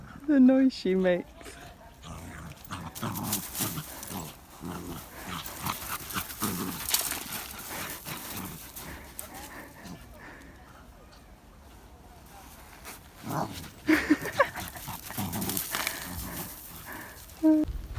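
A dog whimpers and makes high whiny yelps in short bursts at the start and again near the end, outdoors by a lake, with people talking at intervals in between.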